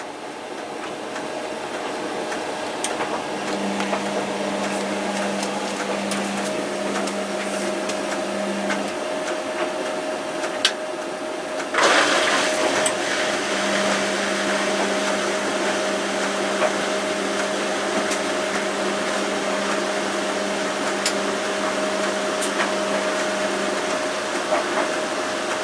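Beko washing machine draining and spinning, a steady whirring hum with a low pump drone that cuts out and later returns, a clunk partway through, then a continued spin.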